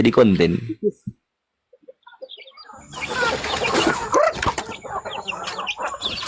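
A chicken clucks and flaps its wings nearby, short clucks followed by a stretch of rustling, flapping commotion, with a voice briefly heard.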